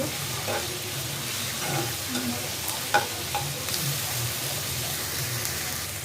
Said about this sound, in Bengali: রসুন, একটু আদা দিয়ে এটাকে খুব ভালো করে লাড়াচাড়া দেব